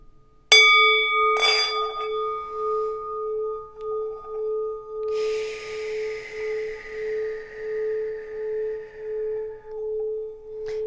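A brass singing bowl is struck like a gong, ringing out with a sustained pulsing hum, followed by a second strike and a bright shimmering wash that slowly fades.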